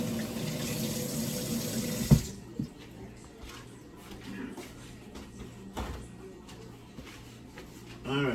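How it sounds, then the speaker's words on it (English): Water streams loudly from a kitchen tap as a hand is rinsed under it. After about two seconds it shuts off, leaving quieter handling noises. "let me rinse out my hand first thing because I just touched the garbage can"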